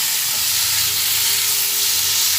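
Bottle gourd peel mixture sautéing in a pan while being stirred, a loud, continuous hissing sizzle close up, steady throughout with faint low scraping beneath.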